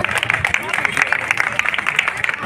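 Crowd applause at a Saraswati Puja prize distribution, a continuous patter of many hands clapping, with a voice talking over it.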